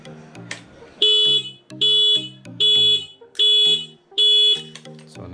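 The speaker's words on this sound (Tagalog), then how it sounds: "So nag-alarm." A motorcycle alarm wired through the stock horn blares in five loud, evenly spaced honking bursts. Short, lower electronic warbles and beeps fill the gaps between them, close to the listener.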